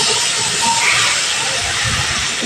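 Water poured into fried spices in a pan for a fish curry sets off a loud continuous steamy hiss that holds steady throughout.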